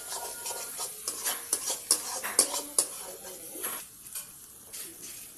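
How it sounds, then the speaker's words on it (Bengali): A metal spoon scrapes and clatters rhythmically in a pan as a spice paste is stir-fried for mung dal with fish head, over a soft, continuous sizzle. "এবার মশলাটা কষে ওর মধ্যে ডালটা দিয়ে দেবো।"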